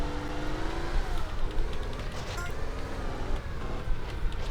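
A car is driven in GTA San Andreas, its engine droning and shifting pitch continuously with rising and falling revs, fairly loud and without pause.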